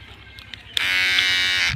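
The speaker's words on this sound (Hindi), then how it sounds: "बाल जो है ना मशीन के साथ ही मैं काटता हूँ" An electric hair clipper switches on abruptly and buzzes steadily for about a second at close range, following a few faint clicks and handling taps at home.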